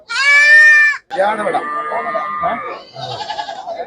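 A Karoli goat bleats loudly with a long, harmonic call, then another bleat runs under voices talking nearby, with further animal calls at the end.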